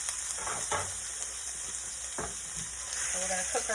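Ground beef hamburger meat fries in a pan on an electric stove, a steady close sizzle broken by scraping stirs, with a brief murmur of voice.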